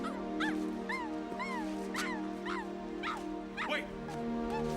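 A dog whimpers and yips in a scene from the 2002 film Equilibrium: a series of high, wavering whines and short yelps close by, over a steady low drone of score.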